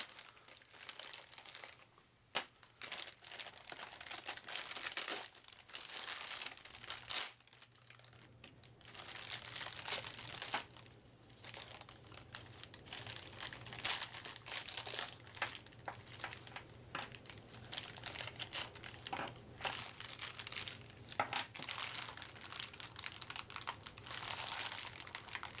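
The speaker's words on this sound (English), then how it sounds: "They do come sealed up in this big plastic thingy, so let's destroy that" Plastic packaging around board game character pieces gets crinkled and torn open in a long series of close, sharp rustles, crackles and rips, busy and uneven with short pauses, with no talking.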